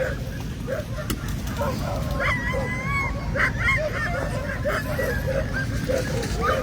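Sled dogs yip and bark excitedly in a crowded pre-race staging area for the K300 sled dog race, with overlapping high yelps over a low rumbling background and some voices nearby.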